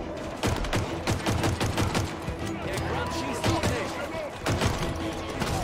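Rapid sniper and weapon fire in Halo Infinite cracks in quick, repeated bursts over busy combat noise, with a voice briefly heard beneath the shots.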